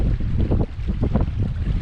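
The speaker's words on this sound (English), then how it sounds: "It'd be awesome if the wind wasn't blowing." Blustery wind buffets the microphone in rough, low rumbling gusts, continuous and loud for a couple of seconds.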